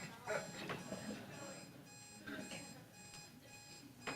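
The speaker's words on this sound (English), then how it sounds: "Does it just keep beeping?" An alarm beeps in a steady repeating pattern, faint and tonal, running under a person speaking in a large room.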